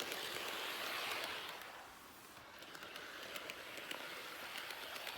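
A small model Class 87 locomotive runs along its track with a steady whirring rumble and faint periodic clicks, fairly close and continuous, with no talking.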